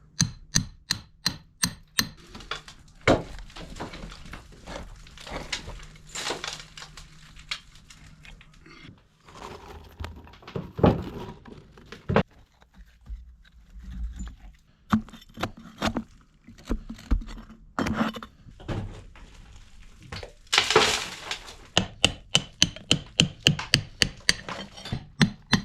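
Hammer and chisel working on a traditional stone wall to free a lintel, with a crowbar at hand. Sharp metallic strikes come close and loud, in quick runs broken by pauses, alongside scraping and crunching of stone.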